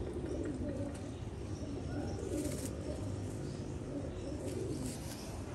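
Pigeons coo softly in a loft among many birds, a low rolling murmur with occasional wing flutters and chirps over steady background noise.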